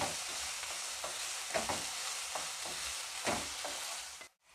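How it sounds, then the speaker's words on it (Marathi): Chopped onion sautéing in a pan for chicken keema, a steady bright sizzle with repeated scraping stirs of a spatula, close and loud, ending abruptly. "कांदा आपण परतून घेऊया एकदम नरम करून घ्यायचा"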